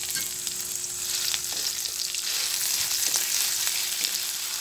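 Shrimp paste (alamang) frying in rendered pork fat, a steady dense sizzle that holds for the whole stretch, with faint occasional ticks of stirring and no voices.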